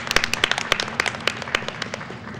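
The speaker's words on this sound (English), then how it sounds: "Yeah, we can give applause for that." Scattered hand claps from a small group at a speedrun marathon event, sharp and irregular, fading in and out over a couple of seconds.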